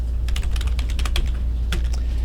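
Quick, irregular keystrokes on a computer keyboard while entering a spreadsheet formula, a run of close, crisp clicks with brief pauses and no voice over them.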